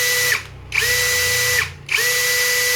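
An Isku 21V cordless drill runs in three sustained high-pitched whirs with brief pauses between, loud and close.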